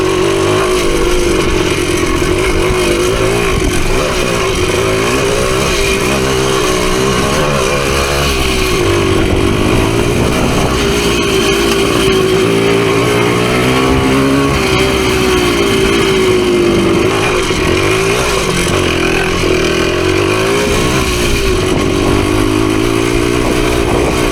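A Suzuki PE250 two-stroke dirt bike engine revving continuously while riding on trails, loud and close throughout with rising and falling throttle.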